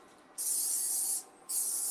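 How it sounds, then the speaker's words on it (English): Cooking spray hisses from a can into a small pan, two bursts close to the mic: a long hiss of almost a second, a short pause, then a second spray starting. "we're gonna spray the small pan. I have just pan cooking spray"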